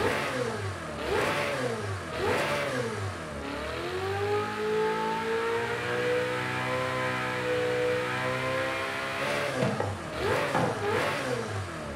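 A Ferrari 488 Challenge engine in Forza Horizon 5 revs repeatedly, rising and falling in sharp sweeps, then holds a long climbing wail before more quick blips, loud and continuous with no voices.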